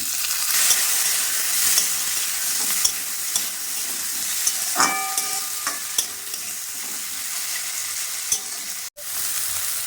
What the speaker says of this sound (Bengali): এক মিনিট পর আবার নেড়ে দিলাম।